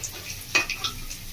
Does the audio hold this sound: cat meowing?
no